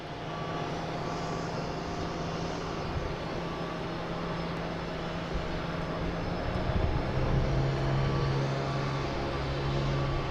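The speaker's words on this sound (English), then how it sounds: "Next to arrive is American Airlines Flight 12 coming in from LAX." An American Airlines jet arriving at Boston Logan from LAX gives a continuous engine drone with steady tonal hums, alongside ground vehicle noise and a sustained beeping tone in the latter half, with no one speaking.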